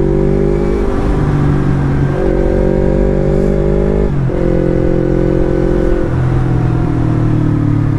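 A 2018 Yamaha MT25 motorcycle's engine holds a steady idle close by, then rises and falls through a few blips of the throttle. No one speaks.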